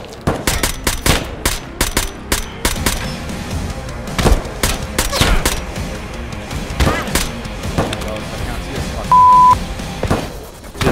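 Gunfire in the video game Escape From Tarkov: loud, sharp shots arrive in irregular bursts and single cracks, with a short beep and agitated voices talking between the shots.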